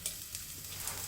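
Onions sizzle steadily in a hot pan for egg curry, a soft continuous frying hiss with faint crackles, heard alone at low volume.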